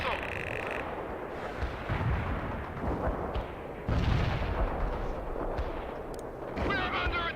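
Missile launches and heavy combat blasts in the war strategy game World in Conflict, several loud bursts landing a few seconds apart over rumbling battle noise, with radio-style voices calling out in between.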